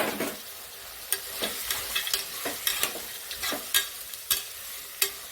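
Green peas fry in a pan for veg pulao, with a steady sizzle under repeated sharp scrapes and taps of a spoon stirring against the pan.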